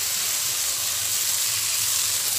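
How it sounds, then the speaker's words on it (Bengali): Potatoes and vegetable stalks frying in spice paste in a pan give a steady, close, broad sizzling hiss that holds constant throughout. "মশলাটার সাথে আলু ও ডাঁটাগুলোকে আমি 1 মিনিট কষিয়ে নেব।"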